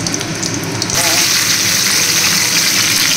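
Black cumin seeds and a green chilli hit hot oil for a Bengali tempering, bursting into a loud, steady, close sizzle that holds strong throughout, with a faint voice beneath at the start.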